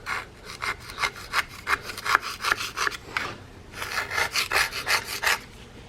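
Caked-on grime being scrubbed off an LS engine block on an engine stand, a rapid run of close, gritty back-and-forth scrubbing strokes with a short pause midway, no speech.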